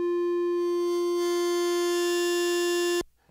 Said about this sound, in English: So if I send the metalizer, and then I'll put that on aftertouch so you can hear what that sounds like.